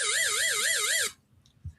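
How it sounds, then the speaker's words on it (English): A quiz timer goes off with a loud, warbling electronic alarm tone that pulses steadily for about a second before cutting off sharply, leaving faint room noise. "Wait for the timer to go off."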